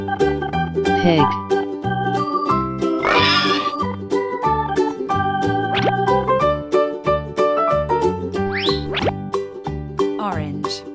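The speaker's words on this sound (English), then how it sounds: "Pig." A children's electronic toy with a car racing ramp plays a pig oinking effect amid bright, jingly toy music, with short squeaky sliding tones rising over a steady beat.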